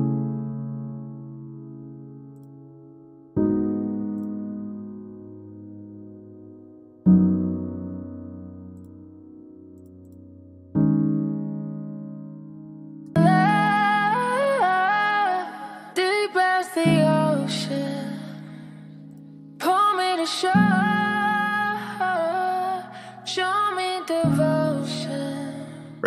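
Piano chord progression for a drumless R&B beat, sustained chords changing every few seconds, later joined by a brighter layered melodic part with gliding vocal-like tones over the chords.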